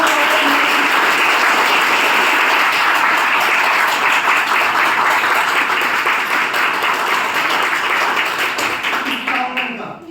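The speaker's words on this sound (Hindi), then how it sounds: "तालियों की गड़गड़ाहट, वो शानदार स्वागत" A crowd at a motivational event honouring Swami Vivekananda gives loud, sustained applause, a thick continuous roar of clapping close by that holds steady for several seconds before tapering off at the very end.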